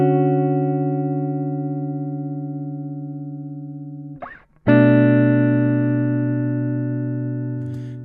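Four sustained guitar chords are played in turn, each ringing out smoothly with rich harmonics, with a short break in the strumming midway and a faint background hiss throughout.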